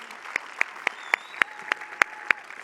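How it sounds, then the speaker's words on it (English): Small audience at a Vue.js conference in Amsterdam applauding a speaker named Manuel: sparse, individual claps spaced out in a slow, uneven rhythm, fairly close and distinct, with a faint background tone underneath. "Big applause for Manuel, please."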